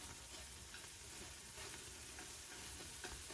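Leeks sautéing in a pan without oil give a soft, steady sizzle and hiss that stays quiet and even throughout, with faint stirring movement underneath.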